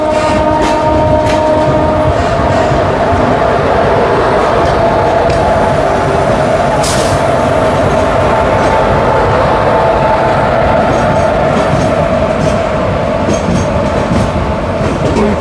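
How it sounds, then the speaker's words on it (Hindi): Amrit Bharat Express train pulling into Ghaziabad railway station, a loud continuous rumble of wheels and carriages with steady rattling, tonal hum and a brief sharp burst midway. "हमारी ट्रेन गाजियाबाद रेलवे स्टेशन पर अराइवल करी"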